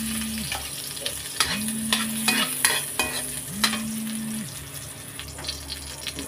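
Garlic sautéing in hot oil for Filipino beef pares mami, a steady close sizzle with scraping stir strokes running throughout, while a low tonal hum rises and falls in the background.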